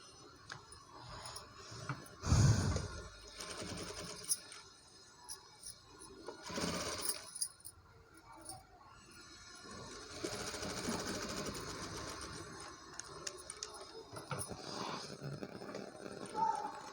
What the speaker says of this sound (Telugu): ఒక టాప్ స్టిచ్ వేసేయాలండి.